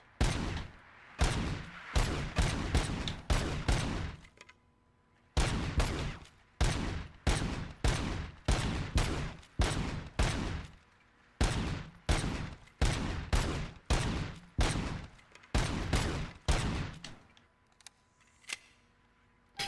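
Semi-automatic gunfire from a video game weapon, loud sharp shots fired in rapid bursts with brief pauses between volleys, continuing for a long stretch with no talking over it.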